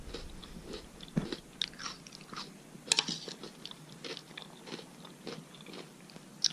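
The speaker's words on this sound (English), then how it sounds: "I have to do a lot of chewing to get through a bowl of this." Crunchy meal-replacement cereal is chewed close to the ear, with irregular crisp bites and crunches scattered over a quiet background.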